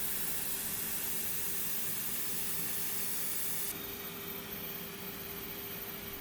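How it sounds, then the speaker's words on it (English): A spray gun lays gloss clear coat on a masked headless five-string bass guitar body, a continuous even hiss that drops slightly in level partway through, with no voices. "The satin area is masked off and the gloss is sprayed."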